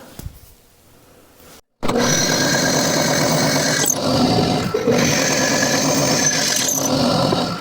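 A power drill with a 5/16 bit whines loudly and steadily after a brief quiet start, its pitch dipping momentarily a couple of times as it bites into material during a clutch fork install.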